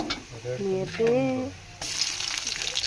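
Onions frying in a pan until brown, a steady sizzle with stirring, partly masked by a brief voice or tonal sound in the first second and a half.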